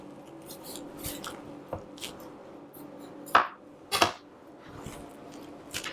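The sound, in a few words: knife cutting a vegetable along its core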